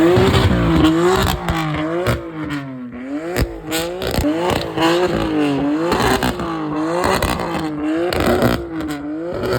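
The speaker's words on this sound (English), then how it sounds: "So one of the spark plugs in one of the cylinders, I think it's cylinder 2, is misfiring and we have to fix it." A car engine with a misfiring cylinder and a bad spark plug revs repeatedly in a parking garage, its uneven, stumbling note rising and falling in rhythmic surges, loud and close.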